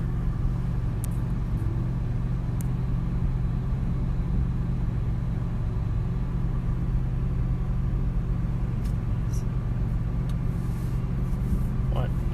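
A Ferrari 458 cruises with a steady low engine drone and road rumble heard from inside the cabin, constant and unchanging throughout, with occasional voices underneath.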